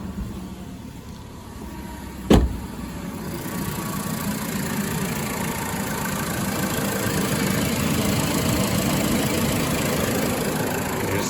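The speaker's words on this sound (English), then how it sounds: "now that you've started your car" A Ford Focus engine idles steadily with the heater blower on full, a constant close hum and rushing air, broken early by one sharp click.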